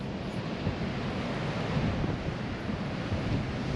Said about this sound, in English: Big waves out there for here.